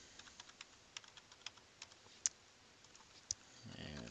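Sign-in details typed on a computer keyboard, with a quick irregular run of light key clicks, a couple of sharper taps standing out, all fairly quiet and close.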